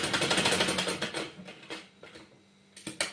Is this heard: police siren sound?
no